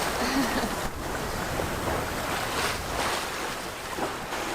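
A sailboat underway with the wind astern on a spring passage, the hull rushing through waves as steady broadband water wash and wind noise fill the whole stretch, with no one speaking.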